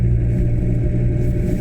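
A car on a road in Stirling, Scotland, picks up speed with a steady, close engine drone and a deep low rumble that holds evenly throughout the short stretch.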